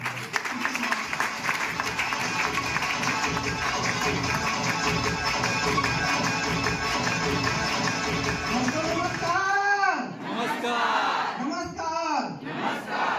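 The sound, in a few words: audience applause welcoming speaker to stage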